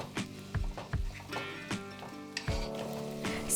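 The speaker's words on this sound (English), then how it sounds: "gently fry the onion, garlic and leek over a medium-low heat for 2 or 3 minutes" Onion, garlic and leek gently frying in vegetable butter in a large saucepan over medium-low heat: a soft, quiet sizzle under repeated knocks and clatters of stirring utensils, no voices.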